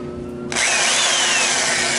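A power drill bores out the lock of a 1951 Atlas Master gum vending machine, starting abruptly after a quiet moment and then grinding loudly and steadily up close.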